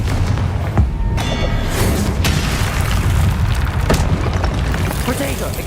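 Confringo fire spells explode in the video game Hogwarts Legacy, with several heavy booming blasts and bursts that stack over a dense, continuous game soundscape.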